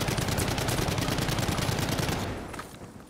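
Dense, continuous automatic gunfire from a Battlefield match, loud and rapid-fire for over two seconds, then tapering into quieter scattered shots and ambient battle noise.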